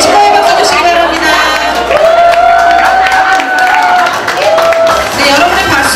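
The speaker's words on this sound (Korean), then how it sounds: "네, 축하해 박수 주시기 바랍니다." An audience at a Korean song instructors' association workshop and appointment ceremony claps in congratulation, a broad sustained wash of applause from a hall crowd running underneath a loud voice speaking over a microphone.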